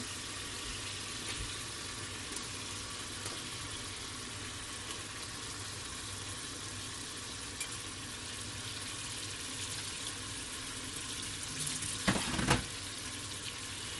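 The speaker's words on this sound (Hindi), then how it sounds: "तो आप ऐसे पकड़ के डालते जाएं ताकि आपका पानी इसमें ड्रेन हो" Water drains and trickles from washed lentils in a kitchen as a soft, continuous running sound, with a brief louder splash near the end and no talk.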